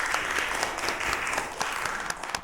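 Audience at a city council meeting breaking into applause, a steady patter of many hands clapping in an indoor room, with a few louder claps standing out near the microphone.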